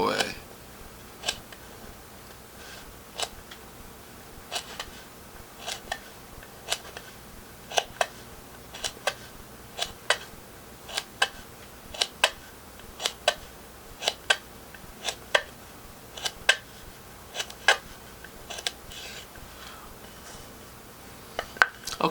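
A CRKT CEO folding knife slices through material in a long run of short, sharp snicks at uneven intervals, close and fairly quiet over a low background.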